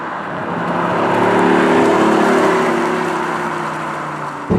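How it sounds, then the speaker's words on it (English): A BMW i8 speeds up on the road, its engine giving a steady, throaty V8-like drone that swells and holds, with a rising whine running through it, loud and close throughout. "It sounds like a nice V8"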